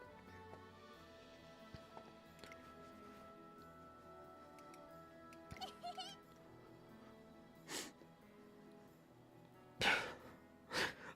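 Haru Urara, a horse-girl character in the Umamusume video game, lets out two sharp sneezes close together near the end, after a stretch of quiet game music and small clicks.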